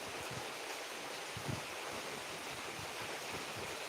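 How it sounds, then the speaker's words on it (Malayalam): Heavy rain pours steadily in the high ranges, a dense, continuous hiss with low rumbling texture and no pauses, alone without voices. "അങ്ങനെ ഭയങ്കര മഴയാണ്"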